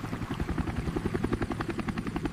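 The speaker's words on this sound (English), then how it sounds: "This is a helicopter." Helicopter rotor chopping in a fast, steady rhythmic thump over a low engine drone, moderately loud and alone.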